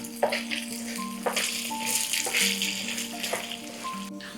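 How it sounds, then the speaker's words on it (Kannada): Chana dal and urad dal roast together in a pan for bitter gourd palya, the dry lentils rattling and sizzling as they are stirred, with close, uneven scraping bursts. "ಸೊ ಎರಡು ಸೇರಿ ನಾವು ಕೆಂಪಾಗೋವರೆಗೂ ನಾವು ಹುರ್ಕೋಬೇಕು ಇದನ್ನು"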